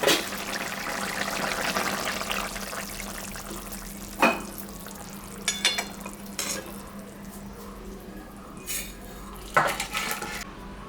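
A low sizzle of prawns frying in a pan with banana flower curry runs underneath clanking utensils, with several sharp metallic scrapes and knocks against the pan.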